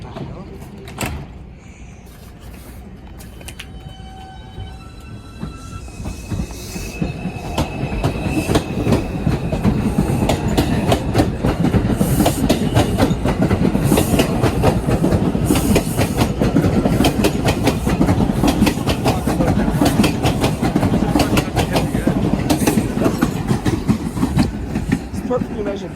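A Manhattan-bound New York subway 4 train runs at Bedford Park Boulevard–Lehman College, starting quiet with door and station sounds, then swelling into a loud, sustained rumble and clatter of wheels close by.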